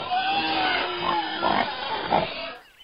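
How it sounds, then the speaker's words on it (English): A big pig in South Texas grunts in a few short, low snorts spaced about half a second apart, nearby over a steady outdoor hiss that cuts off abruptly at the end. "That's a big pig."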